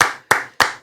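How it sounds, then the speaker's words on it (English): Three sharp, evenly spaced hand claps in quick succession, close and crisp, each decaying briefly before the next, with no talk. "I was not ready with the continuing applause there"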